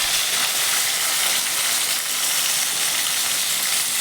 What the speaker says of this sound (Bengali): এক পিঠ ভেজে নেওয়ার পরে মাছটাকে আমি খুন্তির সাহায্যে উল্টে দিচ্ছি আর এক পিঠ ভালো করে ভাজার জন্য